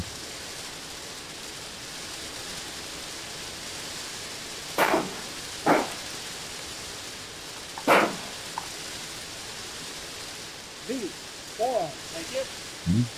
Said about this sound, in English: We're getting some much needed rain.